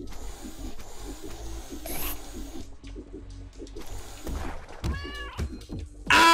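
A cat boss in Turnip Boy Commits Tax Evasion lets out a few synthesized meows over busy game music and effects, with a bright rising cry near the end.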